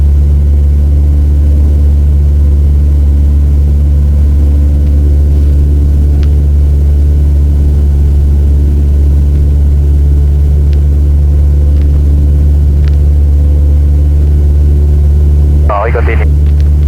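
A training airplane's engine drones steadily at cruising RPM from inside the cockpit during a traffic-pattern flight, a loud, constant low hum with strong harmonics that never lets up, with a brief thump near the end.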